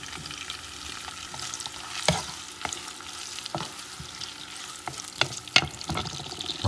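Onion and peppers sizzle steadily in hot oil in a preheated pot on medium heat, with occasional sharp stirring scrapes and pops cutting through the continuous frying hiss, close up and with no talking.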